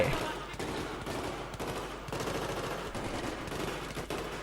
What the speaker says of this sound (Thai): อ๋อมันยิงเป็นจังหวะนี่หว่า